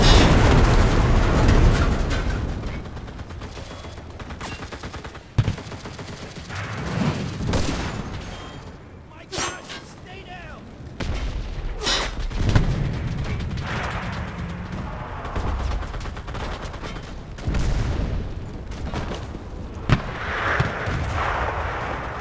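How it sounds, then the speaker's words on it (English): Repeated artillery blasts and rumbling explosions in the video game Enlisted, airport invasion battle, heavy booms and bursts of gunfire rolling through a noisy battlefield with shifting intensity throughout. "Artillery support!"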